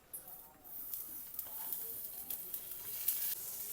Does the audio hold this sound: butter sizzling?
yes